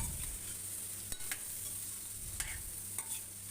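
A steady sizzle of chopped kohlrabi frying in a pan, with occasional scrapes and taps of a spoon stirring, close up and no talking.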